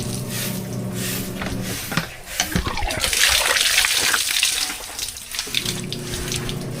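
Water runs and gushes steadily from a source just cleared of sand, a loud close rushing stream that shifts in tone partway through as the flow changes.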